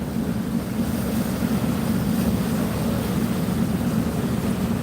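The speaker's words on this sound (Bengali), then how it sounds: "এই যে এটা হচ্ছে আল আরফ সাত লঞ্চ" Passenger launch Al Araf 7, which runs the Dhaka–Nazirpur–Lalmohan route, cruising on a river. Its engine gives a steady, deep droning rumble under a constant wash of wind and water, with no voices.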